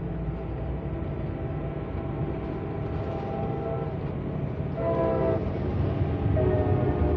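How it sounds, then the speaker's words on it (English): A train rumbles past steadily, heard from a car on a road trip through the Charleston area, with a horn sounding in the latter part over continuous rail noise. "Choo-choo train."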